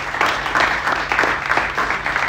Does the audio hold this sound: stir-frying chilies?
no